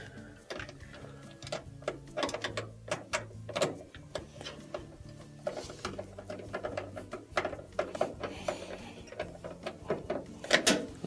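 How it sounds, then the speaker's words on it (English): Screws are reinstalled on an LG washing machine during a drain repair, with close clicking, ratcheting and small metallic taps in an irregular run, heard alone without talk. "Then we will reinstall our two screws."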